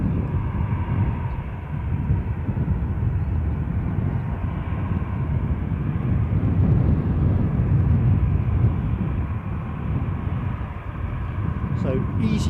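An EasyJet airliner rolls along the runway at Edinburgh airport, its engines giving a steady, loud broadband roar that holds for the whole stretch with no break.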